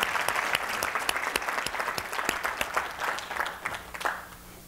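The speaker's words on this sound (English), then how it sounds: "Give our handshaker a round of applause." An audience at a public speaking and stage presence workshop applauds a participant with steady, close clapping that lasts a few seconds and then tapers off.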